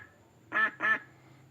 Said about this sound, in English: This is the yellow duck.